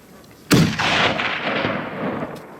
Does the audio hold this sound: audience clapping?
no